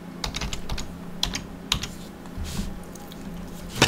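Typing on a computer keyboard while system settings are checked on a PC, a steady run of light, quick key clicks with a few louder taps, close up and with no talk.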